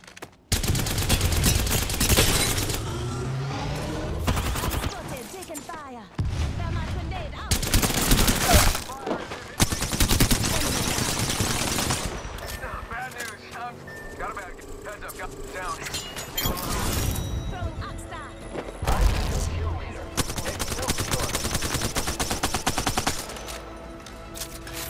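Gunfire in a tactical shooter video game comes in repeated loud bursts of rapid automatic shots and single cracks, separated by brief quieter gaps, while a player talks over the action.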